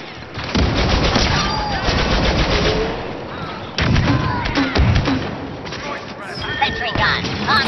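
Heavy gun fire in the Star Wars Battlefront II video game: loud, rapid automatic bursts with booming thuds, in two long stretches, under voices talking.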